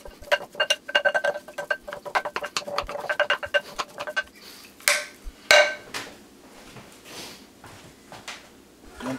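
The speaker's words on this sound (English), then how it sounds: "I have these cool little mixing sticks that gonna help me get the beef, the onions, the peppers all mixed together" Quick clattering taps of mixing sticks against a bowl while ground beef, onions and peppers are worked together, first a fast busy run of clicks, then slower, sparser knocks.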